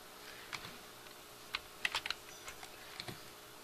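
Computer keyboard arrow keys pressed to step up and down through building storeys, a scatter of light, sharp clicks with a few quick doubles and a short flurry in the middle, close and quiet, with no talk.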